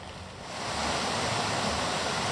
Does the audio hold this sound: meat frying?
no